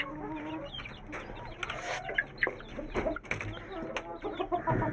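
Hens cluck softly in a backyard flock kept alongside an aseel rooster, with scattered short clucks and rustling up close at low volume over a quiet outdoor background.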